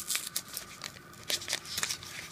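Tape on a Pokemon card package is torn and peeled in several short, crinkly rips, close by and fairly quiet, with no talking.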